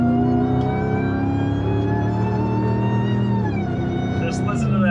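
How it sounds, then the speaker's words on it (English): A Hellcat-swapped Jeep Gladiator 6x6 conversion cruises on a Fort Lauderdale freeway, its engine droning loud and steady with a layered tonal whine from the supercharger that dips slightly as the pitch shifts. "Just listen to that supercharger whine."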